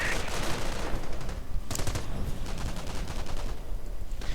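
Rapid bursts of machine gun fire rattle almost continuously in a strategy war video game, loud and dense with overlapping shots and a brief lull midway.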